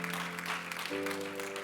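Congregation at a church service applauding, a dense steady wash of clapping with sustained organ or keyboard chords ringing beneath it throughout.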